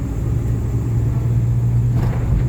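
A car engine hums steadily with a low rumble while overtaking on a road, a continuous close drone of road and motor noise that rises slightly near the end.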